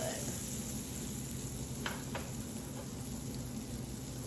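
Butter melts in a pan for egg-in-a-hole, making a soft, steady sizzle with a couple of quick clicks partway through.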